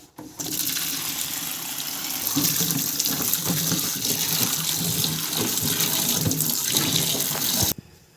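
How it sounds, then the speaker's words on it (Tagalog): Vegetables for a vegetable dish, including sweet potato, are washed under a running tap, a loud steady rush and splash of water that continues for several seconds before it is cut off, with no talking. "Hugasan na natin mga idol."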